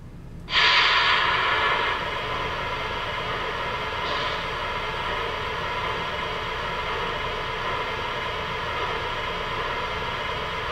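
A Weaver Models B&M P-4 model locomotive sound system starts up: a loud hiss bursts out, then settles into a steady mechanical hum and rumble that runs on without pause, like a small engine idling.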